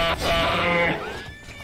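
A horse whinnies in the video game Oblivion, a single close, nasal neigh with a wavering pitch that quickly fades.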